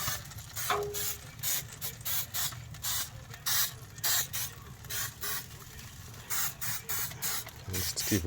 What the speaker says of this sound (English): Grab my little olive oil spray.